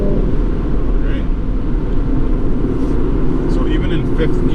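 A 2020 Porsche Macan GTS accelerating in fourth gear at moderate throttle, a loud steady low engine and road rumble from inside the cabin, with brief faint sounds over it.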